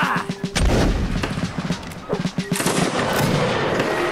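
Cannon fire in the Mount and Blade video game: a series of loud, sharp booming blasts spread across the clip, with heavy rumble and chaotic battle din continuing between shots.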